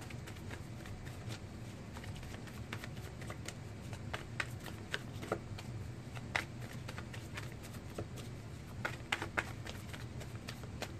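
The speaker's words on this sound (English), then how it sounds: "A few more shuffles, and then I will end it." Tarot cards being shuffled by hand at close range, a soft papery riffle with irregular sharp flicks and taps repeating throughout, fairly quiet and with no talking.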